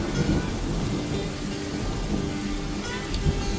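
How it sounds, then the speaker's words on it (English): Rain falls steadily in the Dwarf Fortress game, a dense, even hiss with a low rumble underneath, constant throughout and with no voices. "There's the rain."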